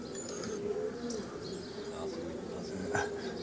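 Pigeons at a pigeon loft give soft, low cooing calls with a few chirps, set against a busy background where people talk nearby.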